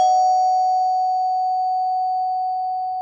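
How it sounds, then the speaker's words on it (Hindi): A house doorbell sounds one long, steady electronic chime tone that rings loud and clear and slowly fades over about three seconds, with nothing else around it. "कुछ देर बाद रीमा के घर की डोरबेल बजती है।"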